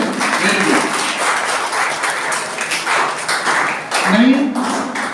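An audience at a cloud computing faculty training session claps for itself in uneven bursts, with scattered hand claps mixed in with a speaker's voice and room noise from a nearby microphone.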